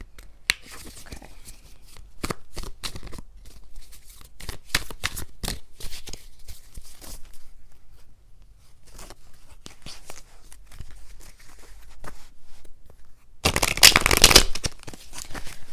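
Tarot cards being shuffled by hand, a run of quick crisp riffling slaps with short pauses, ending in a louder, denser burst of shuffling.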